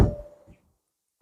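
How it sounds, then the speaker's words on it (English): A 2009 Audi TT RS door is unlocked and pulled open: a sharp close thunk at once, a short mechanical rattle fading over half a second, then silence before another brief knock at the end. "We'll unlock the car and the door opens."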